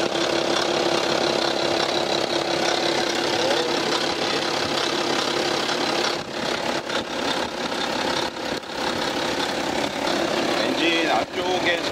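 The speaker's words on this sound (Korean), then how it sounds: "엔진의 소음이 되게 커지고요, 주기적인 소음이 나요. 촤락 촤락 촤락 촤락 촤락 촤락 하면서" BMW X3 30d (F25) diesel engine idling with a failing timing chain, a steady close mechanical drone with a faint periodic rattle running through it, with no talk.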